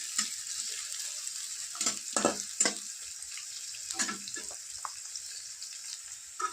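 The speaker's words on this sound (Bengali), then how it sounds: "আর এতে আছে 4টে পেঁয়াজ। এগুলো ভালো করে নেড়ে ছেড়ে নেবো।" Onions and dried red chillies sizzle steadily in hot oil in a pan, with scraping, stirring strokes breaking through the constant close frying hiss.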